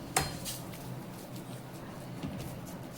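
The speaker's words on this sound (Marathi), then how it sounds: "आणि लगेचच हे गरम गरम मिश्रण ह्यामध्ये ॲड करते" Hot coconut barfi mixture scraped from a pan into a greased dish, a sharp metallic clank at the start followed by soft scraping and a second clink of utensils against the metal.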